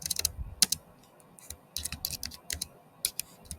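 Rapid typing on a computer keyboard, close and fairly loud, with irregular bursts of keystrokes separated by short pauses and no talking.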